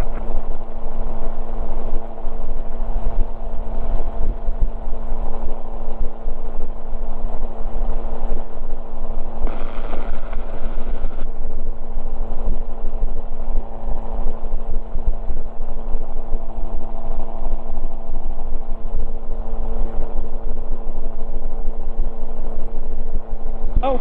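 A gyrocopter aborts its landing and climbs away, its engine and rotor droning loudly and steadily throughout at close range, with a brief brighter rise in pitch partway through and no speech.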